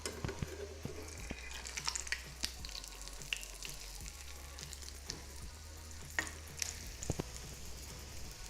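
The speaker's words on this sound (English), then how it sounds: "I'm going to just place in the patty into the hot oil and we're going to cook it until it is golden" An aloo tikki potato patty fries in hot oil with a soft, steady sizzle, broken by faint crackles and occasional clinks, with no talking.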